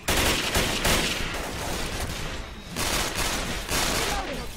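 Rapid gunfire in the Left 4 Dead 2 video game, dense sustained automatic bursts that swell and dip in several waves, loud and continuous throughout.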